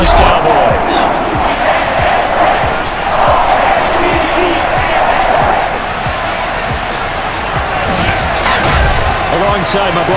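Stadium crowd in a Madden 22 football game, Baltimore Ravens against Dallas Cowboys, a loud continuous roar of cheering that swells and holds throughout, with a commentator talking over it.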